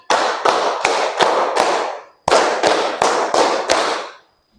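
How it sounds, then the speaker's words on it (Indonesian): Classroom group clapping game: two rounds of five sharp, loud, evenly spaced claps from a standing class, with a short pause between the rounds. "Tepuk 5 2 kali."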